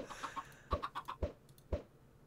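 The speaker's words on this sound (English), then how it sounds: "Alright, chickens are coming back around." A chicken in Minecraft clucks in a short series of quick, clipped notes, fairly faint, with no talking.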